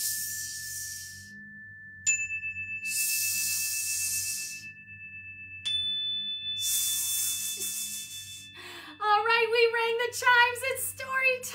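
Chimes ring to start children's story time, two bright struck tones each sustaining and fading, with a hiss of noise between them, followed by a short burst of rising whistly tones at the end.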